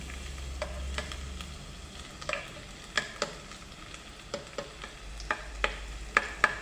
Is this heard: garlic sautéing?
yes